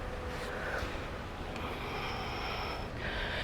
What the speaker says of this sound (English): Let's take a couple of deep breaths here.